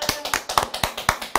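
Hand claps sound in a quick, even rhythm at a talk show, a steady series of crisp, fairly close claps with no voices over them.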